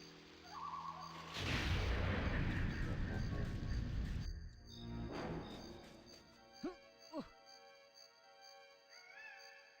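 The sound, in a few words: rockets fired in an N64 video game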